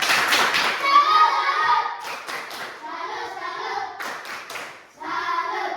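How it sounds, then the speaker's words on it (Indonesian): Sixth-grade children in a primary school classroom clapping a rhythmic salute cheer, bursts of patterned hand claps mixed with their chanting voices and shouts. "Kasih tepuk salut dulu untuk si Fernando"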